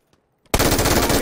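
MG3 machine gun fired in PUBG: a quiet moment broken by a sudden, loud sustained burst of rapid automatic fire that runs to the end.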